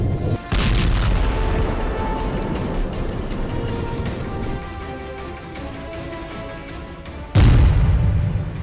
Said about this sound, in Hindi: धमाके का तीसरा वीडियो